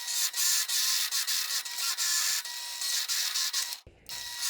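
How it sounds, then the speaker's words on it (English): A drill press with a 1¼ inch Forstner bit bores holes in wooden boards, giving a steady, loud grinding whir with rhythmic ratcheting pulses that cuts off abruptly near the end. "Now I'm going to use a 1¼ inch Forstner bit in my drill press to drill holes in both boards"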